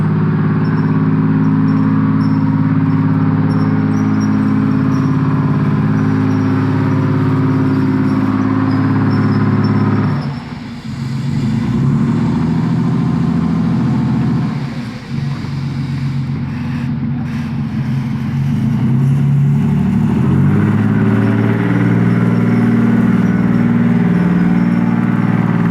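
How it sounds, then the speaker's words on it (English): Tank engines rumble steadily at close range, a loud, continuous low drone with two brief dips in the middle, heard without talk. "the engines sound great on it"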